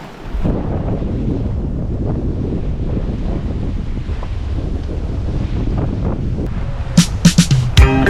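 Strong wind roars across the microphone with waves and surf washing against a sailboat crossing the Atlantic in 30-knot winds and two-metre seas, a steady loud rush with sharper splashes and knocks near the end.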